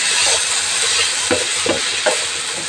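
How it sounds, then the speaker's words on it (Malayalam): Prawns and onions sizzle in a frying pan for a prawn roast while a spatula stirs and scrapes through them in a few distinct strokes over a continuous close frying hiss. "സവാള ഈ ഒരു പരുവാകുമ്പോൾ നമുക്ക് നമ്മുടെ ചെമ്മീനും കൂടെ ഇതിൻ്റെ കൂട്ടിട്ട് ഒന്നിച്ചിട്ടിങ്ങനെ ഇളക്കണം"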